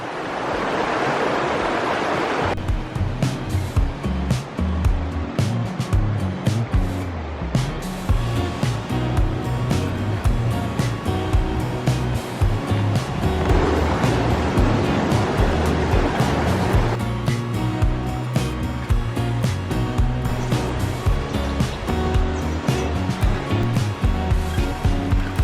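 A rushing river flows below a walkway platform near Devil's Throat cave in Bulgaria, a steady, loud broadband roar of water that continues unbroken throughout with no voices.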